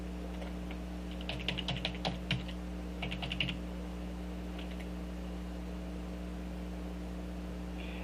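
Login credentials are typed on a computer keyboard in a few short bursts of quick key clicks, close and crisp over a constant electrical hum, followed by a long quiet stretch.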